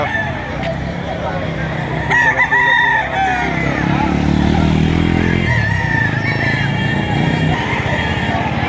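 Roosters and chickens at a busy poultry market in Lipa, Batangas crow and cluck amid a loud crowd murmur, with one long crow standing out and traffic noise underneath.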